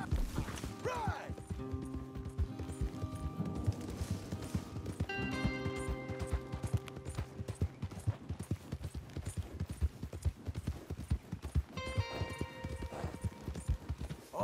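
Horse hooves clip-clop steadily in Red Dead Redemption 2 as riders travel toward a ranch, a continuous rhythmic trot layered under game music with occasional snorts.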